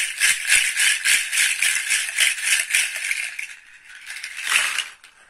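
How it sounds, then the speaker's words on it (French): Small seeds rattling inside a shaker or pod, a close rhythmic series of bright dry rattles shaken in quick bursts that slow and fade toward the end. "je vous montre juste les nioules et tout le bruit de toutes ces petites graines"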